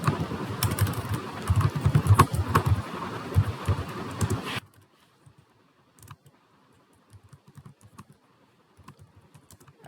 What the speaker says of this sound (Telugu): అడ్రస్ టైప్ చేస్తున్నాను